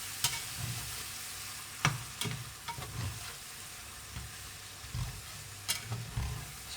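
Chimichanga filling simmers in a pan with a soft continuous sizzle and bubbling, broken by several sharp clicks and scrapes of stirring at irregular intervals, with no talking.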